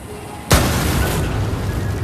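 A single loud, sharp sniper rifle blast erupts suddenly after a brief quiet, then a rumbling, noisy tail lingers for over a second.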